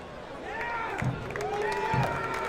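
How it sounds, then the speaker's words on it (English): Spectators at a high school football game cheer and shout in the stands around a nearby voice that talks over the crowd noise, with brief claps and whistles rising and falling. "you probably can only hear the cheers of the people around me right now"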